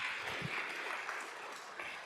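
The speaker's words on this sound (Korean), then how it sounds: "박수 한번 해주세요." A church congregation applauds at a Korean Friday night worship service. The clapping is steady and dense, and it sounds soft and somewhat distant throughout.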